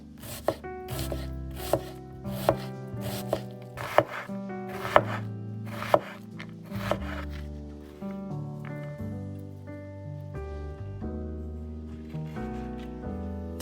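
A knife chops a large onion on a cutting board, giving about nine distinct, evenly spaced chops over gentle background music, after which only the music carries on.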